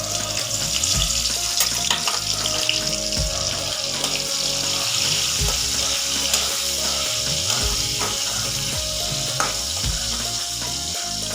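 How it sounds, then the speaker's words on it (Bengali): Onion frying in oil crackles and sizzles loudly and continuously, with rhythmic scraping stirs and occasional clatter of a pan, no talk. "পেঁয়াজটা ভাজা হচ্ছে"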